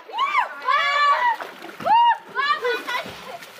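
People splashing as they swim in a village stream, close and lively water slaps mixed with excited children's and adults' voices calling and talking throughout.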